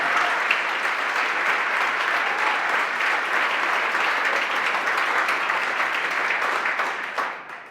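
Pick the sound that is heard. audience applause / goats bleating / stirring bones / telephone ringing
audience applause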